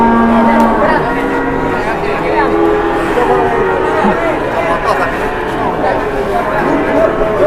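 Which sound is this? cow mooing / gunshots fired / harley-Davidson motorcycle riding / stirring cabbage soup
cow mooing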